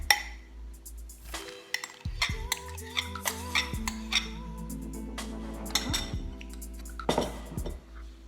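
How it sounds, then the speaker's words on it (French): Gluten-free tart dough being mixed in a bowl: a utensil clinks and scrapes against the bowl in irregular, close bursts with no talk. "On va mélanger l'ensemble."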